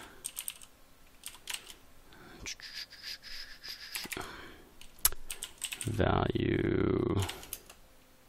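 Quick bursts of clicking keystrokes on a computer keyboard as code is typed, with someone speaking quietly over parts of it.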